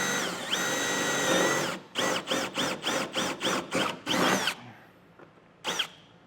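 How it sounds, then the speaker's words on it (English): A power drill enlarging a hole to 3/8 inch for a hidden trailer hitch on a 2025 Toyota runs in a long steady whir, then revs in rapid short bursts, stopping and starting, before one final brief spin. "we want to enlarge the hole that's there or drill a hole to 3/8"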